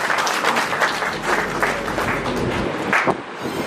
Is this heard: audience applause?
yes